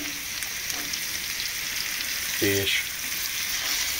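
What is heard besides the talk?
boiled potatoes frying with paprika while stirring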